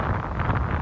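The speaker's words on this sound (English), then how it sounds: "it's pretty windy, and I need audio to be acceptable" Wind buffeting a handheld camera microphone held close to the face outdoors near a park on a windy day, a brief low rumbling roar that fills the whole moment with no voices.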